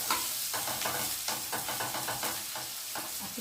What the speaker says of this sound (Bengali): দেখো আমি একটু ভালো করে ভেজে নিচ্ছি।